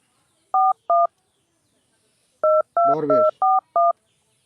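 Telephone keypad tones beep in short bursts, two, a pause, then a quicker run of four with a brief voice mixed into the middle.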